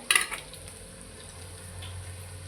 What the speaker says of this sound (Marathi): तर असं मी तेल त्याच्यावर सोडते थोडंसं आता ह्या खरपूस अशा फ्राय करून घ्यायच्या